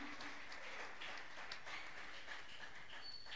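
A church congregation applauding during a French-language service, a steady, fairly quiet wash of clapping that carries on without a break.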